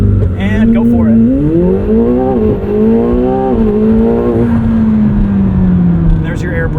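A 2025 McLaren 750S engine roars hard from a standstill under launch control, revs climbing steeply with quick upshifts, loud and close, continuous for several seconds.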